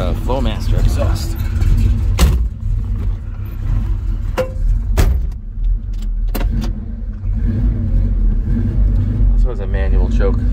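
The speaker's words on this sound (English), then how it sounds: "That's a Flowmaster exhaust." A 1966 Chevrolet El Camino with a 396 V8 and Flowmaster exhaust rumbles steadily while driving, a deep continuous engine drone with a few sharp clicks and knocks, heard from inside the car.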